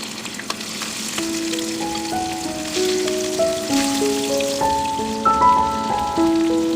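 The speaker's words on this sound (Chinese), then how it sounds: "这时锅内再添点菜籽油，准备炸虾。" Shrimp frying in rapeseed oil in a wok for Kung Pao shrimp gives a steady, close crackling sizzle that runs throughout under a melodic music track.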